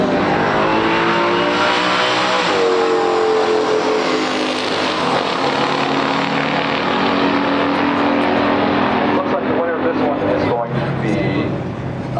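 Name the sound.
1969 COPO Camaro ZL1 drag racing against Dodge Challenger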